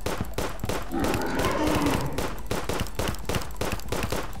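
Rapid gunfire from a weapon in the video game Terraria during a Skeletron boss fight, dense repeated shots in a fast steady rhythm, loud and close, with a brief burst of other game sound in the middle.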